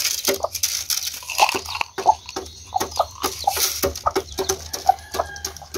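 A hungry hen on a small farm clucks repeatedly in short, quick bursts nearby, with a few sharper calls in between.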